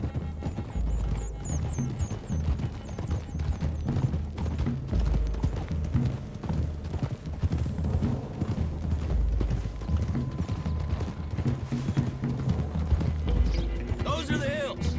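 Hooves clip-clop steadily as horses trot along in Red Dead Redemption 2, with occasional creaks, a whinny and voices over the top, all mixed at a moderate level.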